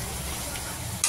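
Onion fries with ginger-garlic paste in oil for butter chicken, a brief, close, steady sizzle ending in a small clink.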